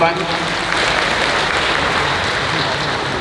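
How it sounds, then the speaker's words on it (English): Audience applause at a fan convention Q&A, a thick, continuous wash of clapping from a crowd, loud and even throughout the short stretch with some voices mixed in. "that's a round of applause"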